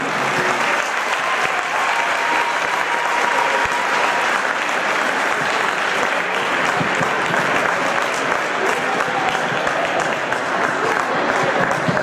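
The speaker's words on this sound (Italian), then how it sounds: "Un bel applauso all'oratorio di Mezzo Corona." Audience applause at an oratory football tournament's award ceremony in Mezzocorona, a dense, steady crowd clapping loud and close throughout with no pause.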